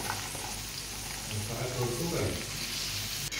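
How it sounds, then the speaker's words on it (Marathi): Chopped onion dropped into hot oil with frying garlic, a steady close sizzle with some stirring, fairly quiet throughout. "कापलेला कांदा त्यात ॲड करूया।"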